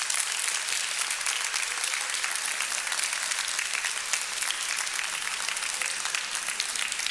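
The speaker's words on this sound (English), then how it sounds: "would you please give your parents and your family members a rousing round of applause?" Steady, dense applause from a large graduation audience honoring parents and family members, continuous and evenly loud throughout with no voices standing out.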